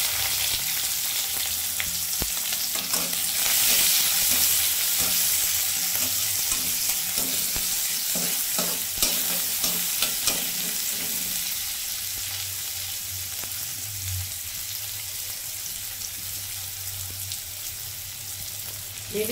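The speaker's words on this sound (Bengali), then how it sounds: "এখন দিয়ে দিচ্ছে পেঁয়াজ, দিয়ে দিচ্ছি রসুন কুচি" Onion and chopped garlic fry in a pan with bay leaves, a long steady hiss of hot oil under repeated stirring scrapes and light taps, close and continuous throughout.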